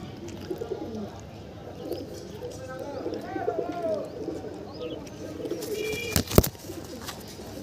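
Mattas pigeons coo softly in a loft, several throaty rolling calls near and moderately quiet, with a brief sharp clatter near the end.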